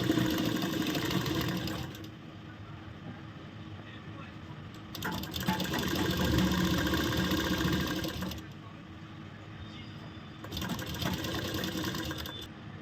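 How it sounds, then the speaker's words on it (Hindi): A sewing machine stitches a round shape on a ladies shirt, running in a steady whirring, rattling drone across three separate bursts with short pauses between them; loud and close. "अब सिलाई पूरे में ये वाली सिलाई लगा लेंगे।"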